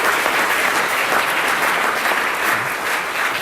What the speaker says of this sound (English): Another round of applause, please, ladies and gentlemen.